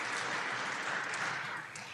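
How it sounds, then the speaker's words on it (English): An audience at a programming contest opening ceremony applauds for a sponsor, a dense, steady clapping that fills the whole short stretch and eases slightly at the close. "Let's give a round of applause to Huawei for being our long-term sponsor."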